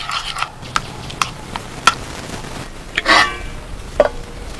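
A spoon stirs spices such as roasted cumin powder, black salt and pepper into raita, giving soft scraping and several sharp clinks against the bowl, close and alone.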